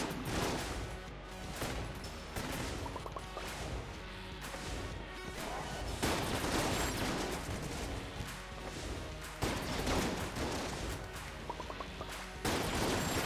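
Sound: gunfire in the video game Enter the Gungeon

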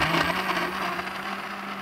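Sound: blender blending banana juice

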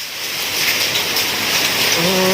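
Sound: hailstorm, hail pelting down

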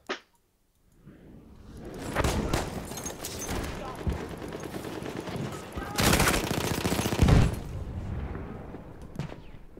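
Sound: gunfire in the video game Battlefield 1

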